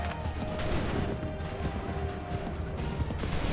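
Musket volley fire on a battlefield in the game Assassin's Creed 3, dense overlapping cracks and rumbling bursts in a continuous barrage, with shouted commands faintly in the mix.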